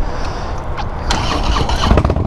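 A Harley-Davidson FXDLS motorcycle engine cranks and fires, then rises into a loud, rumbling idle close at hand, with no one talking.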